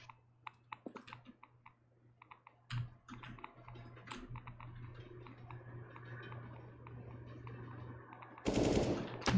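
Sharp bursts of rapid gunfire and single shots crackle in quick clusters in a competitive online shooter match over a quiet background hum, ending in a loud noisy blast.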